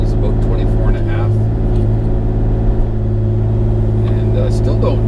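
A Bobcat E35 mini excavator engine runs steadily at about 2200 RPM, below its full throttle, producing a loud, close, continuous diesel drone with a deep, even hum and no breaks for the whole stretch.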